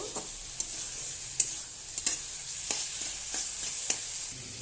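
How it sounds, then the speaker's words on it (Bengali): Mixed vegetables with prawns sizzle in hot oil in a pan, and a steady frying hiss runs throughout. A spatula stirs with sharp scrapes and clinks at irregular moments, and no one speaks. "নেড়ে নেব। তেল ছাড়া ছাড়া হবে"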